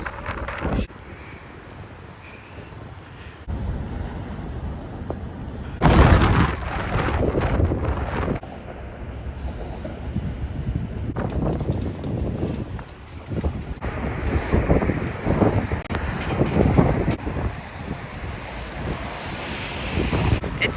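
Strong wind buffets the microphone in heavy, rumbling gusts that rise and fall, with a brief louder blast partway through and no talking.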